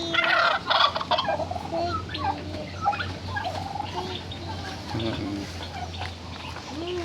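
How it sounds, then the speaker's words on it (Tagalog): Pet turkeys gobble in repeated bursts on a farm where turkeys and chickens are being fed, loudest in the opening seconds and then continuing more loosely over a steady low hum. "magpapakain ng mga alagang pabo at mga manok"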